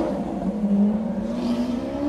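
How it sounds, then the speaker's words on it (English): Several loud cars drive past close by, a steady engine roar with a rising tone and no gaps, heard alone without talk. "Cars everywhere."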